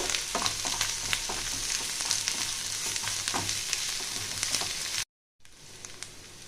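Grated ginger frying in a pan, a bright continuous sizzle and crackle with light stirring, cut by a brief dead gap before a quieter sizzle resumes.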